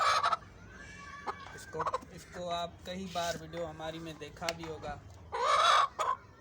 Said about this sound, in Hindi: ये आ गई हमारी दूसरी मुर्गी।